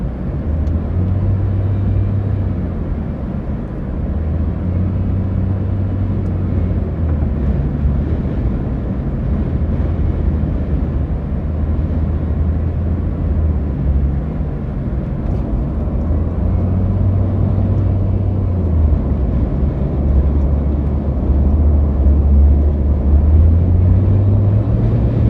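A car heads south on Interstate 295 across the Dames Point bridge in Jacksonville on a windy day, giving a constant loud road roar and wind buffeting with a low drone that swells and fades.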